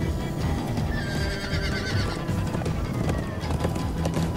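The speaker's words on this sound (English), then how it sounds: "Oh, the horses." Horses whinny and hooves clatter in the Minecraft: Story Mode game, a bright neigh rising over a steady, busy bed of game noise and galloping.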